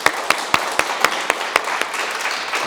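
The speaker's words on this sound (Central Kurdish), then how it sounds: "با چەپڵەیەک لێ دەین" An audience claps together in a steady, even rhythm of sharp claps, loud and close, with no talk.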